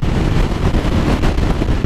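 Steady, loud wind buffeting a microphone while riding a Bajaj Dominar 400 motorcycle, wind hitting the helmet past a short windscreen, a dense low roar that rushes continuously without pause.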